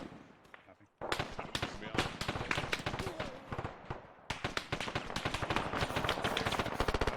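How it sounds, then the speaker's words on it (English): Dense gunfire in the military video game ARMA 3, with rapid sharp shots and bursts cracking nearby almost continuously after a brief quieter moment at the start, some voices mixed in among the shooting. "Someone's shooting close."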